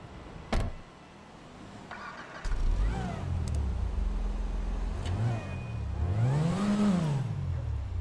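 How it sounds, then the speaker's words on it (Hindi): A black Land Cruiser in GTA 5 starts up with a click and whirring crank, then the engine catches and idles before revving in rising and falling surges, loud and close. "थोड़ी गर्म कर लेना यार गाड़ी को"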